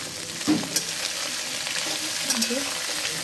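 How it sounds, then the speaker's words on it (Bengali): Potatoes, cauliflower, peas and carrots fry in a pan for khichuri with a steady sizzle, broken by a few scraping stirs and clinks. "বাবা ফ্রাই করছে আলু, ফুলকপি, মটরশুঁটি আর গাজরটা খিচুড়ির জন্য ভালো করে ফ্রাই করে নিচ্ছে।"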